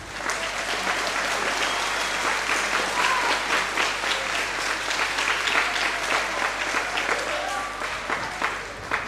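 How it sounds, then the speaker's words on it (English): A school spring concert audience gives students aged ten and eleven a long round of applause. Dense, loud, continuous clapping fills the whole stretch and thins slightly at the very end. "We definitely want to give a huge round of applause to the students for everything that they did today."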